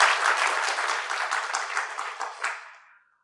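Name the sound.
audience clapping on request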